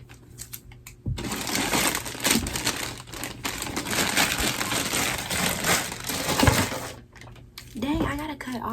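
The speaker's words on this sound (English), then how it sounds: "I gotta cut all these packaging off all this stuff." Store-bought items from Target are cut free of their plastic packaging, with loud crinkling, crunching and snipping bursts that run for several seconds, and a voice comes in near the end.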